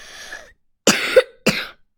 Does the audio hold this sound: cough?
yes